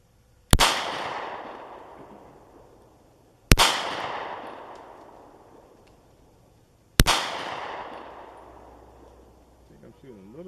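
Three single pistol shots from a Smith & Wesson M&P Shield 9mm, fired slowly at an outdoor range at 10 yards, each a sharp loud crack with a trailing echo, spaced about three seconds apart.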